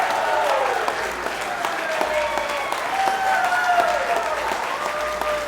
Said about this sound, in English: Everybody please give my wife, Michelle, a round of applause.